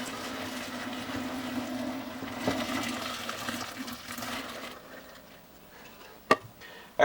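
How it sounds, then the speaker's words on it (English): Water pours and gushes steadily as cooked pasta for a healthy bodybuilding mac and cheese is drained from a pot into a sink, the rush fading out and followed by a couple of sharp metallic knocks. "So now what I'm going to do is go ahead and drain out the pasta real quick."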